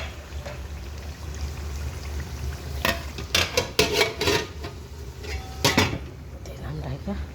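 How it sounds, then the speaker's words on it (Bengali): A lid is set over a pot of cooking meat, with a cluster of metallic clanks and scrapes in the middle, then a final clatter, over a low background hum of cooking. "আবারও ঢেকে দিব আমি মাংসটা।"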